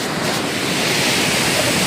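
Steady broadband roar of sea surf surging in and pulling back at a dangerous shoreline, continuous and loud with wind noise across the microphone, no voices.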